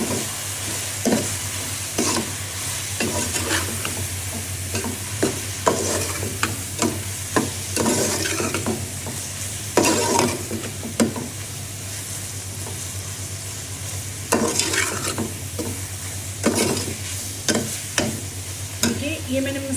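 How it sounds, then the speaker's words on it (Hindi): A spoon stirring cinnamon, chili, salt and turmeric through hot oil in a frying pan, giving a steady low sizzle with repeated scraping strokes across the pan at an irregular rhythm, close and fairly loud. "ये मैंने मसाले मिक्स कर लिए"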